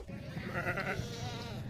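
A goat at a livestock market bleats loudly and close by, giving a wavering, drawn-out call that trembles through the middle of the moment, with background murmur and faint crowd noise.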